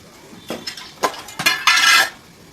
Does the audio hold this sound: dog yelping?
no